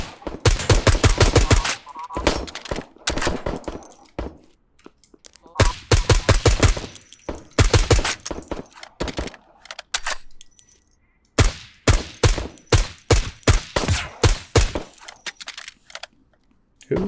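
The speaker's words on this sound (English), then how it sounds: "Who was shooting at me?" Gunfire in a video game comes in several loud bursts of rapid shots separated by short silences, spread across the whole stretch with no talk between them.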